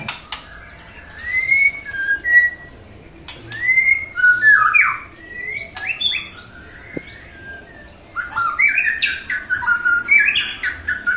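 An oriental magpie-robin in training sings bright, varied whistled phrases and chirps in bursts with short pauses, loud and close, with no other voices.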